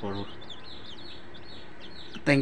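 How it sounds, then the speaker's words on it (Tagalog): Newly hatched chicks chirp faintly with thin, repeated peeps inside a DIY incubator converted from a refrigerator. A voice is heard briefly at the start and again at the end. "ayan po yung ating mga sisiw na bagong pisa, malulusog"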